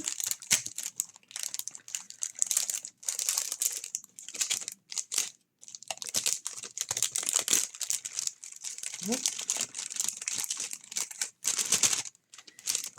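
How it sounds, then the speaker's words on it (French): Paper envelope packaging crinkles and rustles continuously up close as a diamond-painting item is slipped back inside and rewrapped, with a few short pauses in the handling noise. "je vais la remettre précieusement avec son enveloppe"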